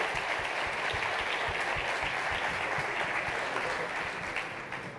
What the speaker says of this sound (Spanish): Un aplauso para Pedro